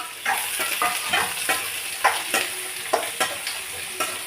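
Chopped onions sauté in hot oil for a Tamil egg roast, a close, steady sizzle broken by rhythmic stirring scrapes of a spoon against the pan, with no voices.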